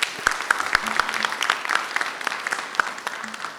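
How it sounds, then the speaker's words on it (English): An audience at a conference breakout session claps in a round of applause, a dense patter of hands with a few sharp claps standing out near the microphone, lasting a few seconds. "I'd like to give a round of applause again for her sharing her story."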